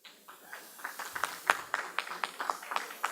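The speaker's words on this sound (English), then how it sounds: "if everybody else can clap for them" Scattered, steady hand clapping from a small audience at a chapter launch ceremony for a Dallas association, fairly quiet, with sharp claps arriving roughly four times a second and no voices.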